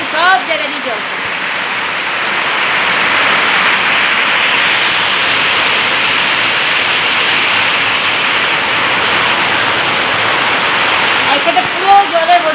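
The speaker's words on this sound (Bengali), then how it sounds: "ঠিক বৃষ্টি শুরু হয়ে গেছে, আর কি পরিমাণ হাওয়া দিচ্ছে" Heavy rain with strong wind, a loud steady roar of downpour that fills the whole stretch, with a voice heard faintly at the start and end.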